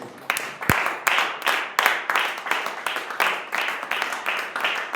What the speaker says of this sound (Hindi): ताली दे सकते हैं।